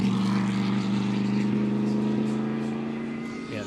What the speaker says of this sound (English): you can hear the supercharger winding under the bonnet